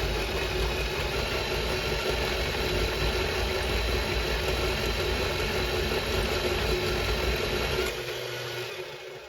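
An RCBS carbide outside de-burr tool head spins with a steady, loud motor whir and faint grinding hum that runs continuously, then drops off and winds down near the end.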